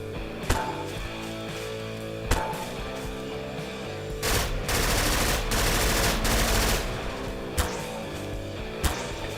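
SMG turret gunfire in Garry's Mod: sharp isolated shots with a sustained burst of rapid automatic fire in the middle, loud and close, followed by a few more single cracks.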